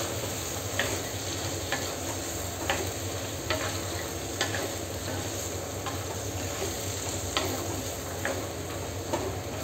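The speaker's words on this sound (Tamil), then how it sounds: "சேர்த்துட்டு ஃப்ளேம் கொஞ்சம் ஹையில் வச்சுட்டு இதை நல்லா வந்து கலந்து விட்டுடலாம்" Kuzhambu stirred over a high flame in a clay pot, a steady bubbling sizzle broken by soft spoon scrapes against the pot wall at fairly regular intervals, close and continuous with no talking.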